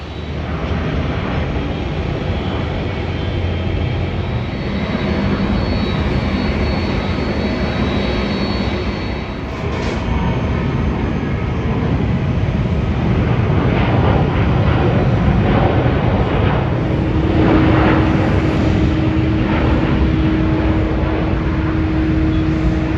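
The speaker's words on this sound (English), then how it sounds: "watching the planes take off and land" Jet airliners at Haneda Airport, Tokyo, taking off and landing near Terminal 2 give a continuous, loud engine roar that swells and shifts over about twenty seconds, with a brief break and whining tones rising partway through.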